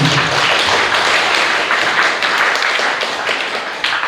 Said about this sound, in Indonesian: Baik, tepuk tangan untuk tadi.